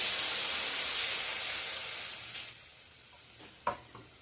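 Mutton rasam bubbling in a pot, a loud steady hiss and sizzle that fades gradually, followed by a couple of sharp utensil knocks near the end.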